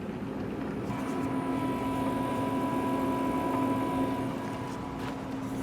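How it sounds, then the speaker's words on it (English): A Tesla's motor running to heat a deep-frozen LFP battery while charging: a steady, continuous mechanical whir with tonal hum, fairly loud and unchanging throughout, with no talking. "I can hear the motor going here."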